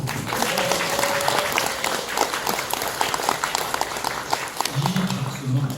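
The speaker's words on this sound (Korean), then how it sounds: "유승근 의원 박수 한번 주세요." Audience applause for a district councillor at a ward chief's community meeting, steady clapping filling most of the stretch with voices mixed in and a louder burst near the end.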